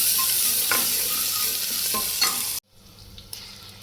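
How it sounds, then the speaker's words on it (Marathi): Finely chopped small tomatoes sauté in a pan for sambar, a close steady frying hiss with occasional spoon scrapes that cuts off abruptly partway, leaving faint quiet rustling and no voices. "यामध्ये बारीक छोटे टोमॅटो आपण टाकून घेऊयात आणि तेही 5 मिनिट आपण परतून घेणार आहोत।"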